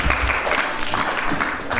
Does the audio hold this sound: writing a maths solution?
no